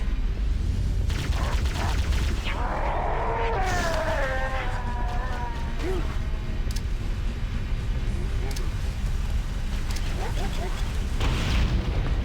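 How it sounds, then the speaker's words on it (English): Loud booms from grenades exploding in a video game rumble through a dense, constant layer of game noise, with a voice-like warble briefly rising over the din. "I'm trying to get all those grenades to blow up around the same time and boost me up"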